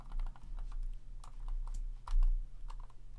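Computer keyboard keystrokes as a Ctrl+C copy is pressed during InDesign layout work, a quiet scatter of light clicks at an uneven pace over a low steady hum.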